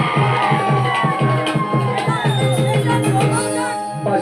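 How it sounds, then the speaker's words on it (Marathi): Lively crowd at a Konkan Shimga folk song performance cheering and whooping for a singer, with shouts and raised voices over rhythmic music throughout, loud and close. "माझ्या सिद्धेश मिस्त्रीसाठी एकदा जोरदार टाळ्या वाजवा"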